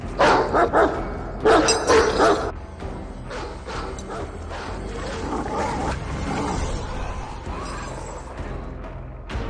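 Several dogs bark and snarl aggressively at close range, loud and overlapping in a continuous frenzied chorus, with harsh roaring growls running throughout.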